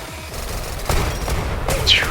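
A rapid burst of automatic gunfire from an LMG-magazine weapon in the Roblox Weird Gun Game, crackling shots in quick succession at close range, with a brief voice-like sweep near the end.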